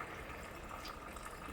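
Room-temperature filtered water poured steadily into a jar of sauerkraut being prepared for a steam canner, a continuous close splashing gush with no pauses.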